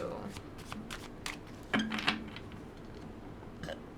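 Tarot cards are shuffled by hand in a soft papery riffle with a few louder snaps and slaps, close up over a faint background hiss.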